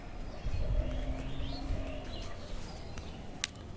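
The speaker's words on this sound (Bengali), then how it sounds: "এদিকে কিছু কবুতর গা শুকাচ্ছে এখনও কিছু কবুতর স্নান করছে" Pigeons drying off after a bath give soft, low cooing calls with a few faint chirps, fairly quiet and close, over a light background murmur.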